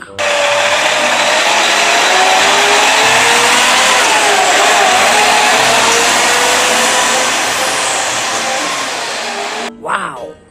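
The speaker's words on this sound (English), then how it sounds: "Sky blue cool cement truck." A sky blue cement mixer truck runs with a loud, steady mechanical whine and hum that shifts slightly in pitch, close by, fading toward the end with a sharp noise at the finish.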